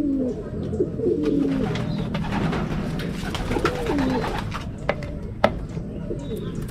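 Racing pigeons back from a hard race from Tagudin, Ilocos, give several soft, low throaty coos close by over a murmur of background noise, with a few sharp knocks near the end.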